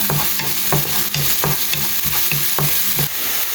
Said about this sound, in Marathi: आनी आतां हे ऑनियन्स घालून न्ही मातशें सोते करून घेता